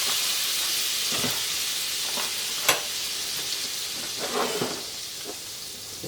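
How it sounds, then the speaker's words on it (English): Butter melting into about two tablespoons of hot olive oil in a pan, a steady soft sizzle throughout with a few louder crackles and pops partway through, close and fairly quiet, no talking. "we've got about 2 tablespoons of olive oil in the pan, and it's already warm. Actually, it's already hot. So we'll add about a 1/4 cup of butter."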